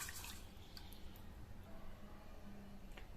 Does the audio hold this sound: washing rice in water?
yes